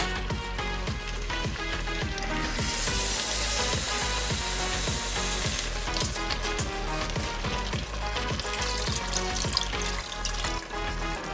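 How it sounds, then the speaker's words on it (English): Water pours steadily into a simmering pork chile verde sauce, a continuous rushing splash over sizzling and bubbling, loud and close, with no voices. "now I'm going to add a little bit of water"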